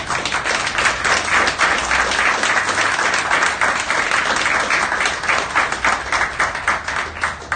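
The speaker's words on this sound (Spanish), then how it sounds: "Nosotros ya aplaudimos" Steady, even applause from an audience at the close of a talk on big data in sport, a continuous close wash of many hands clapping with no speech over it.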